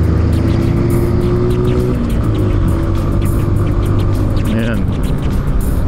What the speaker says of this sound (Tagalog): Nakaka-stress din yung mga tunog ng mga jeep.